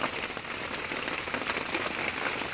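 Rain falls steadily on surfaces nearby, a dense, even hiss of patter without a break, no voices over it.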